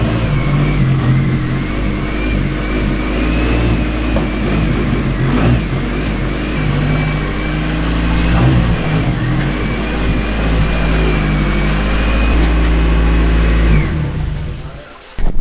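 A turbocharged NB Miata engine revs and drones loudly on a dyno for a long stretch, climbing and holding pitch, then cuts off abruptly near the end.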